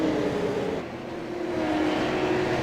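A Super Late Model race car at the Milwaukee Mile roars through turns 3 and 4, a steady loud engine drone holding a sustained pitch that dips briefly and swells again as it carries on at speed.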